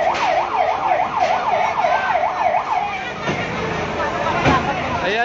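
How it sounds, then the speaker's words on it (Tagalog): Fire truck siren wailing at a building fire in Quezon City, its rising and falling whoop repeating steadily for about three seconds before fading, amid crowd babble and street noise with people talking. "Ayan yung mga fire truck po dyan."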